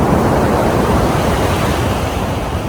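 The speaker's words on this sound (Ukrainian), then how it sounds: "класно біля моря іду по набережній" Sea waves wash along an Italian seafront promenade on a sunny, mild day, a steady broadband roar of surf with wind noise on the microphone, continuous and fairly loud with no talk.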